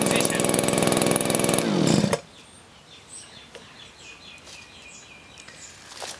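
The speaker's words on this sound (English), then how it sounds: "Then stop the blower" A 909 Tools PB26 petrol leaf blower roars loud and steady at close range, then cuts out abruptly after about two seconds, leaving quiet background with faint birdsong.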